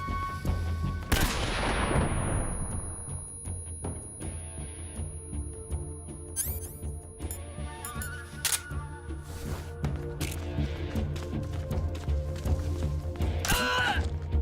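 Gunfire in Metal Gear Solid 3: Snake Eater, a lethal gun mistaken for a sleep gun, with sharp broadband shots scattered through a busy game soundscape of ambience and effects, loud and close.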